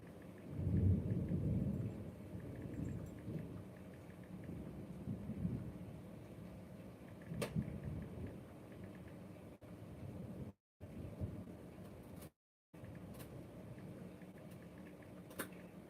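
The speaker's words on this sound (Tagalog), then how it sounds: "Ay, lakas ng ulan." Heavy rain pours steadily while low thunder rumbles, strongest near the start, then a sustained downpour with occasional sharp drips.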